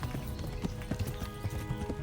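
A horse in the video game Kingdom Come: Deliverance gallops in a rapid, steady clip-clop of hooves, fairly close and moderately loud, with no talk over it.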